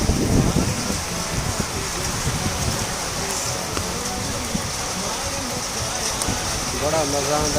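Rain pours down in Makkah, a dense steady patter and hiss with a loud splashy start, while people talk over it nearby.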